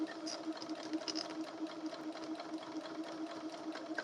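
A sewing machine runs steadily while stitching a hat tail closed, its needle thumping in a fast, even rhythm close to the microphone, with no one talking.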